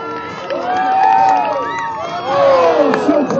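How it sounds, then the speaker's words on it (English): Crowd at a dog high jump show erupts in loud cheering, whoops and shouts, swelling and dipping over a few seconds. "The crowd is going wild."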